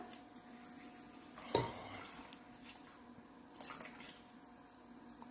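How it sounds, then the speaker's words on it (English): Water poured into a Thermomix bowl over chopped spring onions and sauce for okonomiyaki, a faint, brief splash followed by a soft trickle in a quiet kitchen. "to this I'm going to add 200 grams of water"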